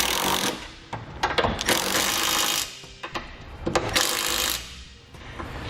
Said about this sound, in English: I'm going to be using a 9/16 socket to snug those up